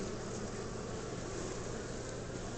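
Honeybees buzz in a steady, dense drone inside a top bar hive that is getting ready to swarm, close and continuous with no talk.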